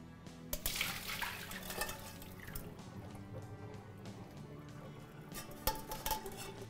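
Boiled russet potatoes, cooked with bay leaves and peppercorns, are drained in a kitchen: quiet water splashing and dripping, with light clinks and knocks of a pot against the sink.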